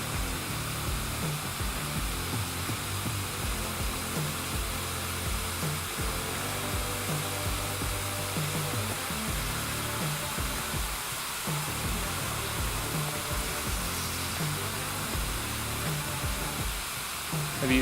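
DIY lawn sprinkler heads spray water across a renovated turf lawn, giving a steady, loud hiss that runs unbroken throughout.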